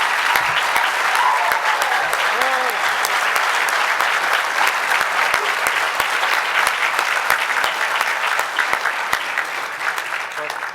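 Audience at a PIHMS graduation ceremony in July 2022 gives the staff a sustained round of dense applause, loud and steady throughout, a few brief voice fragments near the start.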